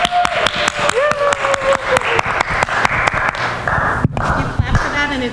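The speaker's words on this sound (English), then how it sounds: "So please give Greg and Angela a round of applause." An audience applauds a couple, Greg and Angela Bender, in a church service, with steady, dense clapping that fills the room throughout, while a voice speaks over it near the start.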